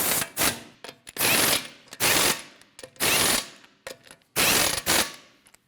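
A ratchet wrench snugs the lug nuts on a Honda CR-V wheel in several loud, close bursts of rapid clicking, separated by short pauses, with no talk.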